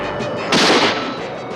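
A cartoon rocket ignites and launches with a sudden loud, roaring blast that swells for about half a second and then fades into a rushing hiss.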